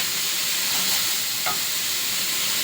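Chili and spices fry in a hot pan with a loud, steady sizzle that holds throughout. A single short scrape of stirring is heard.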